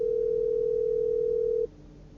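A steady electronic tone sounds through a car's Bluetooth-connected MMI head unit as a phone call is placed, clear and constant for about a second and a half before cutting off to quiet hiss.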